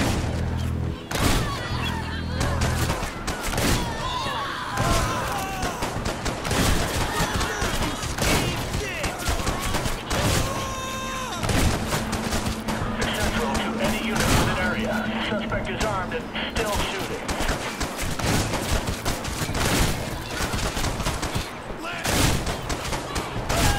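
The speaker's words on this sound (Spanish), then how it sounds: "Si les disparo de cerca, creo que se les vuela la cabeza." Rapid, loud gunfire from the top-down shooter game Hatred, with dense bursts of repeated shots and impacts on a dockside level and voices beneath the shooting throughout.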